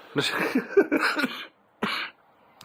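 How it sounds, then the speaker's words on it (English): A person coughs several times in a rough burst, then pauses before one more sharp cough, close and fairly loud. "Sorry for the cough"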